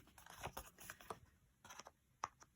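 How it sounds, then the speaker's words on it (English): Scissors snip through card stock while a paper card front is cut, giving a few quiet, close crisp cuts and rustles in short irregular bursts. "I'm happy to use my scissors, and I'm just going to cut along"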